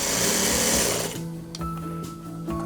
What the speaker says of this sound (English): We'll sew right off and onto this scrap piece of fabric.